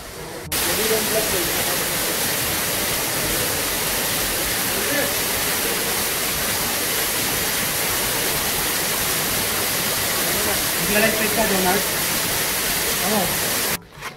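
The waterfall at Wadi Lajab gives a continuous, broadband rushing roar that stays steady and fairly loud from start to finish, with no other sounds standing out.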